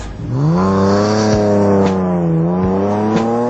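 The 2.4-liter single overhead cam inline-six of a 1970 Datsun 240Z pulls up from low revs into a loud, steady, close engine drone with rich harmonic tone, briefly interrupted by a few sharp shift clicks.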